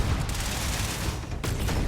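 Grenade exploding in Starfield, a dense rumbling blast with crackling debris that fills the short clip at steady loudness, heard close and alone.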